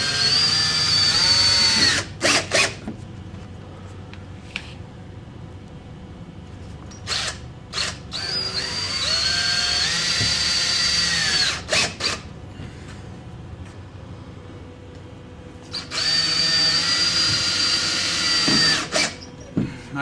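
A power drill drives drywall anchors into pre-drilled holes in a wall, with three loud whirring bursts that ramp up in pitch, separated by short pauses and a few clicks and knocks.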